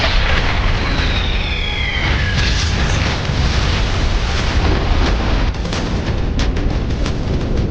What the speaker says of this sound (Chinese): 爆炸产生的冲击波将潜艇内的人员震得人仰马翻